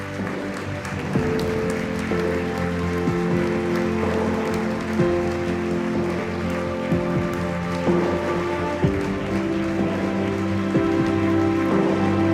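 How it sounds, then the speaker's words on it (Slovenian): Audience applause for nominees at a business awards ceremony, a continuous rain-like patter of many hands clapping over loud stage music that plays throughout. "Vi pa medtem lahko naše nominirance seveda pospremite z velikim aplavzom."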